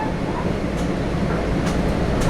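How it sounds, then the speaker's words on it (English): Inside a passenger train heading back to the city, a steady loud low rumble of the carriage in motion with faint clicks over it. "finally we settled in for a nice train ride"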